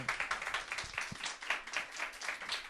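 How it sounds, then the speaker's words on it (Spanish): A church congregation claps, short and fairly quiet, with an uneven rapid patter of many hands filling the whole moment. "Dele un aplauso."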